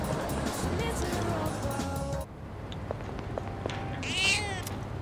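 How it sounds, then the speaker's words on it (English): A weak, hungry cat in the Persona 3 Reload video game gives a short meow near the end, set against a dense game soundtrack that cuts away partway through. "Cat looks very weak. Seems like it might be hungry."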